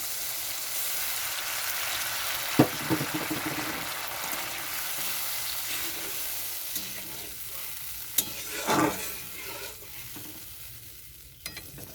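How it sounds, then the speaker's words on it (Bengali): Water goes into a pan of fish roe cooked with mustard paste, bringing a soft, ongoing sizzle with occasional stirring clatters and a brief louder splash partway through. "এখন আমি এখানে জল দিয়ে দিচ্ছি"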